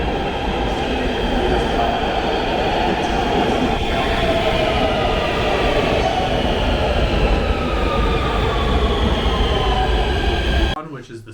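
A subway train rumbles loudly and steadily through a Nuremberg U-Bahn station, its roar filling the space before cutting off abruptly near the end.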